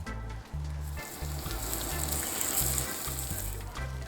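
Steak sizzles steadily on a hot grill in a broad, continuous hiss, with a low rhythmic hum pulsing underneath throughout, close and moderately loud.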